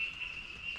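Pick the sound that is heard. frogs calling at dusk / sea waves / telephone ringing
frogs calling at dusk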